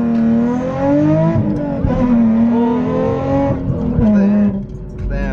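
A Nissan 370Z with an aftermarket Tomei exhaust revs hard from inside the car, its loud, raspy engine note climbing and falling through several pulls, with brief dips between revs.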